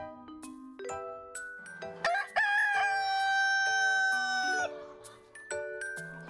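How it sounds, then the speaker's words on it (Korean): A rooster crows loud and close at a free-range egg farm in the morning, one long drawn-out call rising then holding, with other hens clucking around it and a faint chime ringing through the start. "우렁찬 닭소리로 하루를 시작하는"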